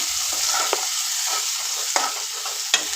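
Finely chopped onions and Guntur chillies fry in a pan with a constant bright sizzle, broken by a few sharp scraping stirs of a spoon against the pan, close and without speech.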